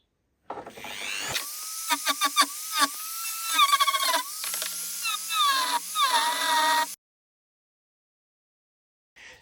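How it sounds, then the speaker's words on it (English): A Dremel rotary tool shapes the ducktail on a Porsche 911 replica with a high, whining buzz. It runs in short, repeated bursts for several seconds, close and fairly loud, then stops sharply into near silence. "I'm going to do some detailing work with the Dremel, try and match up each half."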